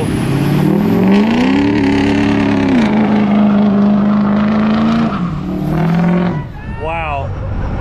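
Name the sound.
drag racing cars doing a burnout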